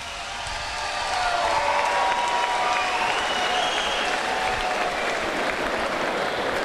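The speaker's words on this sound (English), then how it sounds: "One more round of applause for these two guys." A crowd applauds after an MMA cage fight, with a continuous wash of clapping that swells in the first second and stays steady and full to the end.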